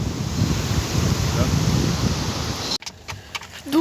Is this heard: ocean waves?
yes